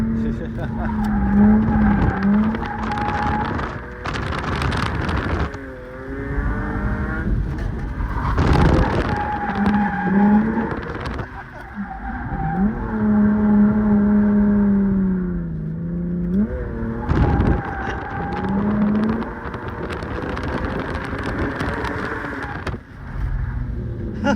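Drift cars at a drift event rev hard and squeal their tyres in long wavering screeches, with engine roars rising and falling across the whole stretch.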